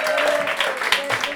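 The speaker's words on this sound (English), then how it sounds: "Another round of applause" An audience claps after a storytelling show, a dense wash of applause heard under a steady tone and some talk or cheering.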